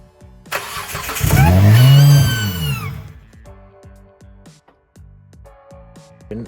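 A 2008 Hyundai Tiburon GT engine cranks briefly, catches and revs up loudly for its first start after an intake manifold install, then drops back as a series of clicks and knocks follow.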